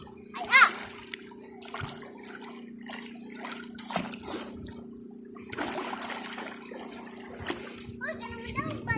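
People, including children, splash and play in sea water at Puca beach in Oman, with intermittent splashes under frequent chatter and a steady low hum.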